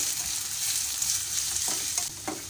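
Sliced onion and red chillies fry in a couple of spoons of oil, a bright, constant close-up sizzle with a few soft stirring scrapes toward the end.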